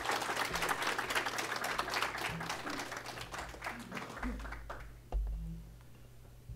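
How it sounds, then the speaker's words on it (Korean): A Korean church congregation at a Sunday worship service applauds to welcome the preacher. The broad clapping is strongest at first, then thins out and fades toward the end, with a low background hum underneath. "우리 나오실 때 힘찬 박수로 환영하겠습니다."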